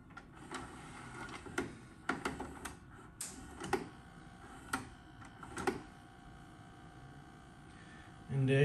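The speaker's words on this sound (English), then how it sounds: "Go ahead and just put a tape in there." A VHS tape loads into a Magnavox ZV427MG9 DVD/VHS combo recorder, giving a series of sharp mechanical clicks and clunks spaced a second or so apart, with a faint motor hum beneath and a louder thump at the end.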